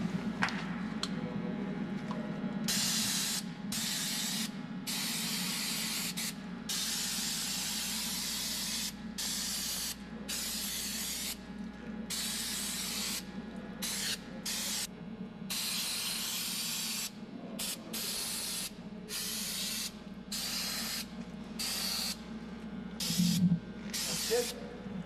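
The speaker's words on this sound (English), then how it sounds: "we're going to use the air blower, and we're going to blow it off and dry it up" A compressed-air gun hisses in a long series of strong bursts with short breaks as it blows water out of and dries a wheel bore during F550 truck wheel maintenance, loud and close with a low shop hum beneath.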